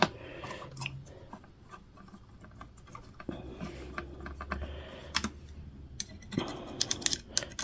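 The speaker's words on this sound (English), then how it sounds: "Get these screws started." Screws being started by hand on a Dell Precision 3630 heatsink, with small irregular clicks, taps and ratcheting ticks of a screwdriver, close and fairly quiet, with no speech.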